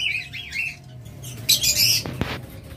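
Pet lovebirds, cockatiels and budgerigars kept in pairs call with bright, chattering chirps and squawks, a quick burst near the middle followed by a couple of sharp thumps or flutters.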